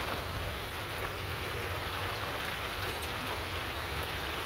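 Steady rain pours down at sea around a fishing boat during the rainy season, a dense, continuous hiss with low wind rumble, constant and enveloping with no voices.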